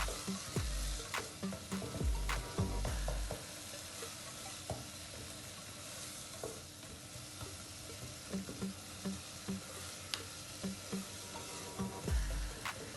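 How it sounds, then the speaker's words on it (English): Ingredients for Spanish tomato rice stirred in a pan over soft frying sizzle, with a steady series of spoon scrapes and taps close by, no talking. "mix all these ingredients together that way that they are all evenly mixed"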